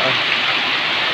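Heavy pouring rain, a dense steady hiss of water with no other sound, close and loud throughout.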